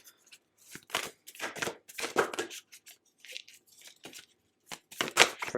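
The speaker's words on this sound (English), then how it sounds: "I'm just going to move some oracle cards here for you" Oracle cards are moved and handled close by, making quick papery rustles, slaps and shuffles in irregular bursts separated by near silence.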